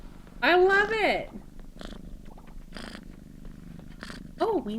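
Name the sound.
cat purring in Coral Island video game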